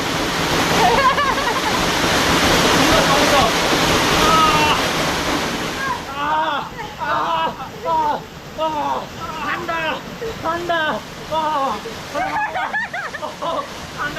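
Water rushes steadily at Chengkhola in Samabeong, Kalimpong, where people bathe, a broad continuous wash that stays loud at first and then sits under excited talk and laughter.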